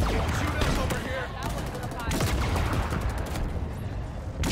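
Sustained automatic gunfire rattles in a Halo Infinite firefight, dense and loud bursts running almost without a break, with voices talking over the shooting.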